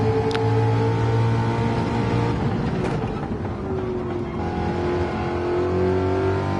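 Race car engine on the opening lap of a racing game at Abu Dhabi, a loud sustained drone with shifting pitch as the car accelerates and changes gear, steady and close.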